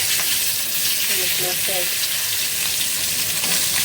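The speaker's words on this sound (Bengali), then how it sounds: "এগুলো কাটাগুলি মাথার এগুলো ভাজতেছি, ভাজা তারপরে কচু শাক দিয়ে রান্না করবো।" Fish heads and bones frying in hot oil, a loud, dense, continuous sizzle close by, with a brief faint voice murmuring underneath.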